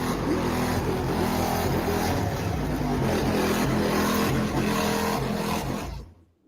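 A small Smart car's engine drones and revs steadily, loud and close, with a continuous motor roar over several seconds before fading out abruptly at the end.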